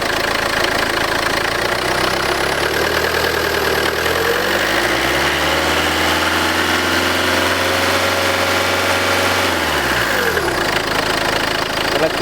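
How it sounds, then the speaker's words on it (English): A 2000 Peugeot 406 HDi diesel engine idles up close with a steady, rhythmic clatter and hum; its pitch dips and then rises back over a few seconds. "Nice steady clack. Sounds good."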